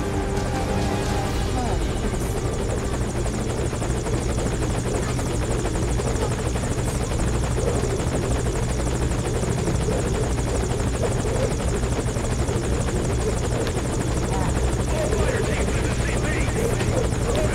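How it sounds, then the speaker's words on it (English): A helicopter in the video game Metal Gear Solid V thrums loudly and close, its rotor noise a constant dense roar that fills the whole stretch without pause. "Put the target on the chopper."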